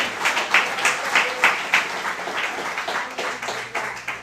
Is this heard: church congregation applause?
yes